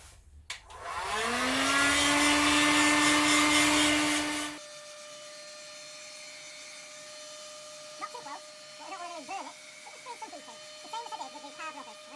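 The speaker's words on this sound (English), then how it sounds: "what I did, trusty old hot air gun" A hot air gun blows a loud rising whine for several seconds while heating firm plastic parts on a 1970 Honda CB750 K0, then cuts off, and someone speaks quietly afterward.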